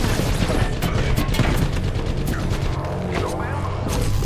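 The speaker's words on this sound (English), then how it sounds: "Throwing thermite grenade" Thermite grenade thrown in the battle royale video game Apex Legends, a dense, continuous roar of fiery crackle and low rumble with scattered gunfire-like bursts, loud and close throughout.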